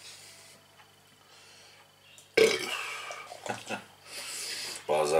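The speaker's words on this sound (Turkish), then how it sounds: "Bazı arkadaşlar da hiç sevmiyor bu geğirme hissiyatını" A loud, drawn-out burp erupts after a quiet stretch, followed by more throaty gulping sounds and a second burst near the end.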